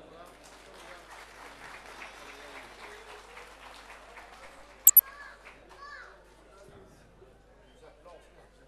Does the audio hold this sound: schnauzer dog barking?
no